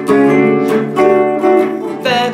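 Guitar plays the closing phrase of a solo, a run of bright, loud picked notes and chord stabs in a steady rhythm, heard alone.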